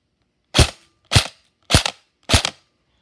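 An airsoft gun fires four sharp, evenly spaced semi-auto shots over a chronograph, each a crisp close crack with silence between, about half a second apart.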